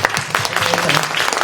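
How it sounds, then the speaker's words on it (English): Audience applause after a film screening at a film festival Q&A, a short burst of clapping with someone speaking over it. "Let's just give another round of applause to this amazing film."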